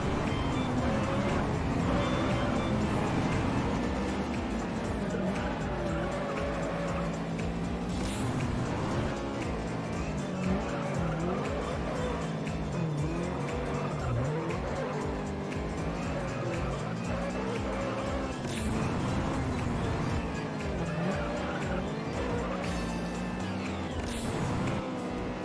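Honda Integra race car engine in the racing game Juiced roars continuously with rising and falling revs through gear changes, loud and close throughout, with game sounds layered over it.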